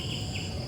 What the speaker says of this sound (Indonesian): jangkrik ada juga ya